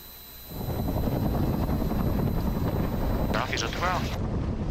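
A helicopter hovering near the ground blasts loud rotor wash, a dense, continuous roar of rushing air and rotor thump that swells in and holds, with a brief radio-like voice cutting through near the end.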